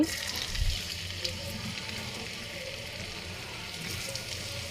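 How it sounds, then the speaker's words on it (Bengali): Chopped onions frying in oil in a wok, a steady close hiss and sizzle that runs throughout with a brief low knock near the start. "এটাকে আমি ভালোভাবে ভেজে নেব"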